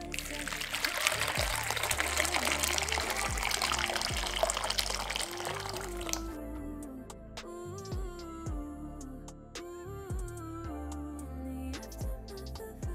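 Water pours steadily into a container meant for washing paint brushes, a loud, full stream that stops partway through and leaves tonal background music and faint drips.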